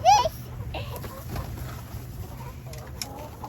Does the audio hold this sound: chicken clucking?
yes